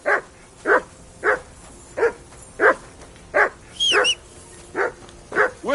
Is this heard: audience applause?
no